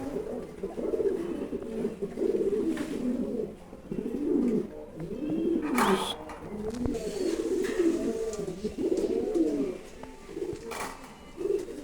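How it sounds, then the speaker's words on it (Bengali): Lahori pigeons at a Bangladeshi pigeon farm coo in repeated soft, rolling phrases close by, several birds overlapping almost without pause, with a few faint rustles between. "আমার দেখার মধ্যে সেরা একটা কবুতর, একদম সেরা একটা জাতের কবুতর"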